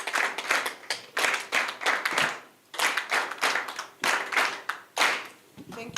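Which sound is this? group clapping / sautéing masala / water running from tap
group clapping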